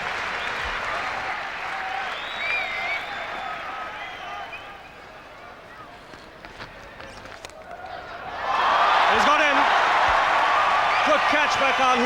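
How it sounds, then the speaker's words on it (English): Applause from a good crowd and teammates greets a batsman's half century at a one-day international cricket final in Sharjah, England against West Indies; steady clapping swells louder toward the end under a commentator's voice. "And a warm applause from all his teammates. And a pretty good crowd here too."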